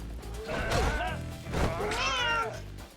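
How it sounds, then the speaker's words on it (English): A pet cat gives two drawn-out meows close by with a short pause between them, the second rising and wavering. "This is my cat."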